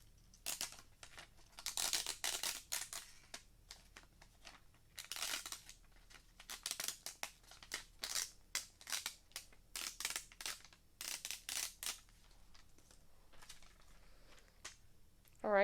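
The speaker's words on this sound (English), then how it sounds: "just find a corner here and get started on peeling off the outside layer first" A Cricut Infusible Ink transfer sheet has its outer layer peeled away for a baby bodysuit project, giving bursts of close crinkling and tearing with brief pauses between them over about fifteen seconds.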